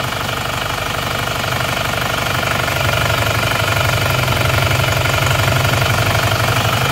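A Panther car engine runs steadily up close, blowing smoke from its oil filler, with a loud, continuous rumble and a rapid knocking pulse that grows slightly stronger partway through.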